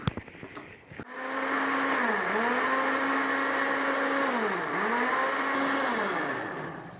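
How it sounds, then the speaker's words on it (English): A blender switches on after a brief clatter and whirs loudly and steadily while blending fresh tomatoes, its motor pitch dipping and rising a couple of times as the contents churn. "we need to blend these fresh tomatoes"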